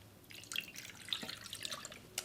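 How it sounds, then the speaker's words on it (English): Water pours from a measuring cup into a cake pan, a faint, close trickle and splash lasting a couple of seconds with small bursts of droplets. "So I'm putting 2 cups of water in this pan now"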